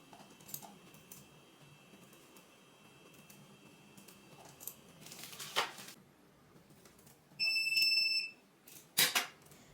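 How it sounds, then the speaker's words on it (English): A centrifuge gives a short electronic beep when it finishes spinning blood tubes, heard after a few soft clicks and rustles in a quiet room, followed by a brief clatter. "So that beep means that the tubes are done spinning"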